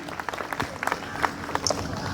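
An audience claps for a hospital at a Tamil debate-forum event. Scattered, moderately loud applause runs through the stretch with uneven bursts of hand claps, with no speech over it.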